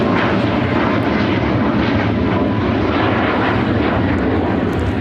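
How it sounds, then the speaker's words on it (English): United Airlines Boeing 737 MAX 8 taking off from Chicago O'Hare, a loud continuous engine roar holding steady and close throughout, with no voices. "2668 taking off to Tampa, Florida on the MAX 8."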